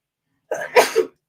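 A single loud sneeze, close by, with a quick breathy intake followed by a sharp burst, then silence.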